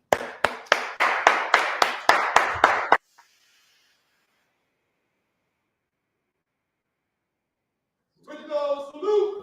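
An audience stands and claps to welcome a minister to the podium for a lecture. About ten loud, even, rhythmic claps come close together, then silence falls before a voice begins speaking.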